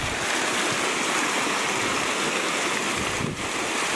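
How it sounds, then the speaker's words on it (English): A flooded creek rushes with a loud, continuous roar of turbulent water, broad and steady throughout with no voices. "The creek's splitting and going all over the place."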